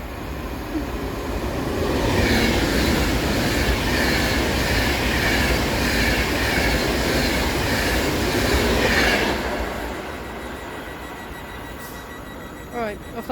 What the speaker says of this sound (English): about to come flying through, we have a Vante Pendolino.